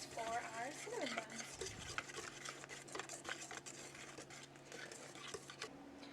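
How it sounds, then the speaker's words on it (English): Steady whisking in a bowl as cinnamon bun glaze is mixed, a quiet continuous scraping and tapping of the whisk with no one speaking. "now we just have to whisk it all together to make the glaze for our cinnamon buns"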